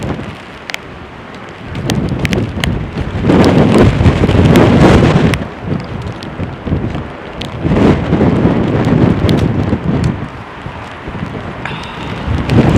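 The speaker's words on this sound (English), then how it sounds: "Here it is. Here is the rain." Heavy rain lashes down during Storm Noa at London Heathrow airport, a loud, dense roar of drumming rainfall that swells and eases in waves, close and continuous with no voices.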